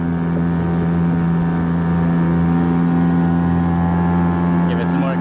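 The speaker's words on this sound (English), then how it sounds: "We're hydroplaning." A homemade hydrofoil kayak driven by a small gas engine skims along hydroplaning, its motor holding a loud, steady, tonal drone with constant rushing noise for several seconds, no voices heard.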